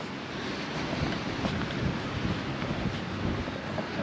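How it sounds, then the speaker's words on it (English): Wind and rain outdoors in a trashed field, a loud continuous roar of wind buffeting the microphone with a broad hiss of rain, no voices heard. "And it's windy and raining."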